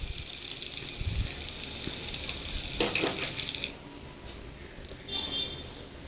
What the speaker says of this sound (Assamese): এতিয়া জুইত কেৰাহীখন পাতি তাত 1 চামুচ গৰু ঘিউ দিম আৰু তাতে পাচলিখিনি অলপ দেৰি ভাজিম